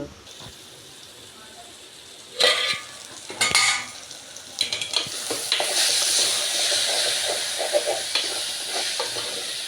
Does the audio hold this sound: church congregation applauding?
no